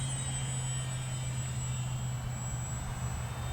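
An Arrows Trekker radio-controlled model airplane flies past outdoors, its small electric motor giving a steady, loud whine with a sustained hum underneath, holding level with no talk.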